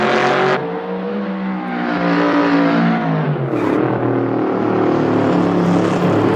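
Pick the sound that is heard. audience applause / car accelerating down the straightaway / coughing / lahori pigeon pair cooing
car accelerating down the straightaway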